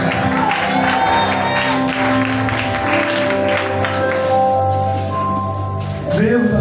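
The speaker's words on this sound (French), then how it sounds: "Acclamons pour le Seigneur Jésus." A church congregation applauds and cheers for the Lord Jesus: loud, continuous clapping and crowd noise with shouting voices throughout, fading slightly before a brief swell at the end.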